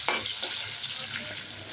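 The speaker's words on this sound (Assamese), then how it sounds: "ভাজি আছে আলু।" Potatoes fry in a pan, a dense, steady sizzle close by with occasional stirring scrapes and no talking.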